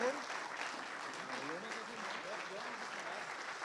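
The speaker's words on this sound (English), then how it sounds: "Thank you for the applause." An audience at a conference closing session applauds steadily at a moderate distance. Faint voices talk under the clapping, which stays even and continuous throughout.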